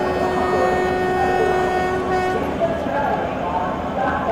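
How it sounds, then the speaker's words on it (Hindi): Sustained, steady horn tone from an Indian locomotive with WCR power hauling an SER train, the Kolkata–Mumbai Kurla Express, in a train simulator game, sounding over engine rumble while someone talks throughout. "यहाँ पर मैं अभी हॉर्न बजा देता हूँ।"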